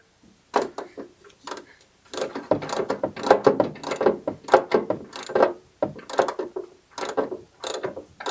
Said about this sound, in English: It takes a 15/16 deep well socket to go over the top of it to tighten it.